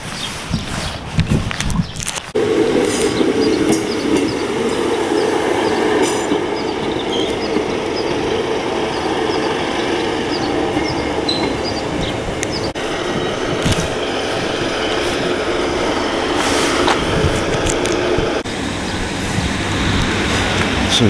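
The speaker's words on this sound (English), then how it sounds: "So the train's just departed." A train pulls out of Penistone railway station, a loud, close rumble of rolling wagons with squealing wheels and clatter that builds after a brief burst and holds for the rest, while footsteps shuffle nearby.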